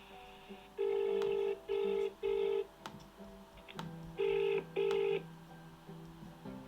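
A telephone call to an estate agent rings while waiting to connect: five bursts of a bright ringback tone in two groups of three and two, moderately loud, with faint line noise between.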